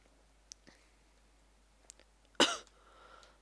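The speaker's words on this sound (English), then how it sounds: "sorry, I got a bad cough." A single sharp cough bursts out once, near and fairly loud, against a quiet room with a few faint clicks before it and a soft trailing breath after.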